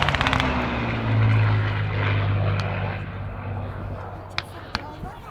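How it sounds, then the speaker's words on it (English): A Supermarine Spitfire roars past at a WW2 re-enactment with a loud propeller-engine drone that swells and then fades. A voice talks over it, and a few sharp bangs sound toward the end. "This brave Spitfire pilot passes again."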